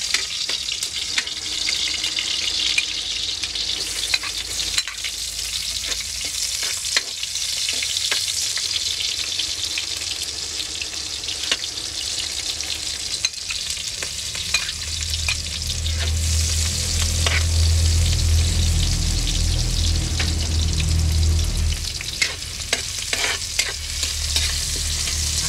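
Garlic frying and being stirred in a pan for chicken intestine adobo, a continuous bright sizzle with scraping stir sounds, close by, and a deeper bubbling swell in the second half.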